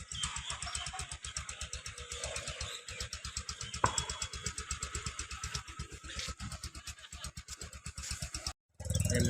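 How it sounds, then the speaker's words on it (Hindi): Motorcycle engine running after a cold-weather start near Guwahati airport, a steady rapid idling putter that is close and moderately loud, breaking off briefly near the end. "ठंडा का मौसम में बाइक स्टार्ट नहीं होता है। हाँ, ये अभी स्टार्ट हो गया।"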